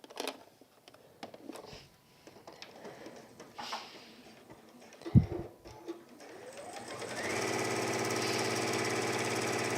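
A sewing machine stitches down both side seams of a fabric gardener's kneeling cushion, starting after scattered handling clicks and thumps and then running as a steady, continuous whirring drone through the final few seconds.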